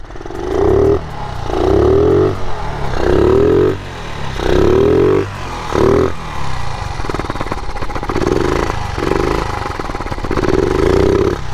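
A 1978 Honda Z50 Monkey minibike's small single-cylinder engine, started from cold, putters and revs up repeatedly in short bursts, loud and close, its pitch rising and falling with each blip.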